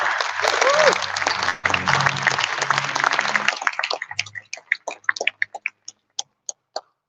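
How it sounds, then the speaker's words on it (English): An audience at an awards ceremony claps loudly for several seconds, then the applause thins out into a handful of scattered, isolated claps before stopping. "Please give a warm round of applause."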